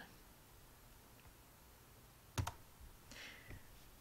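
A few quick keystrokes click on a computer keyboard, close but quiet, then a couple of softer taps against faint room hiss.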